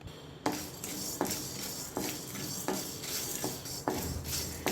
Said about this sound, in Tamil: சிம்லே வச்சு இதை நல்லா வறுத்துக்கலாம்